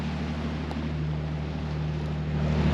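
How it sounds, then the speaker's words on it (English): A steady low engine drone from a boat on open water, with wind buffeting the microphone throughout and no talking. "our plan is to go around a small island"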